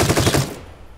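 Machine gun in The Front video game fires a short, loud rapid burst of shots lasting about half a second, then cuts off into a fading tail.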